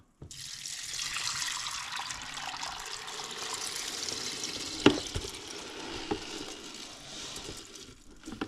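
Hemp-soaked water pours from a container onto corn, a continuous splashing trickle that carries on for several seconds, with a couple of brief knocks near the end and no speech.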